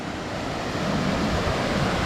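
Waterfall at Cascade Ué on a mountain hike, a loud continuous rushing roar of falling water with steady broadband noise and no pauses.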